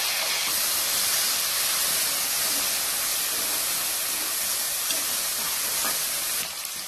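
Chopped tomato sautés in a pan with onion for a pressure-cooker mutton curry, giving a steady, close sizzling hiss that holds throughout and eases slightly at the end.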